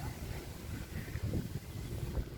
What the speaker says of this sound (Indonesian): Anginnya masih ngegelebuk.